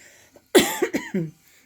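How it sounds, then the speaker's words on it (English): A single close, raspy cough breaking into a few quick hacking bursts, loud against a quiet room. "I do apologize if I keep coughing and I have to keep getting a drink"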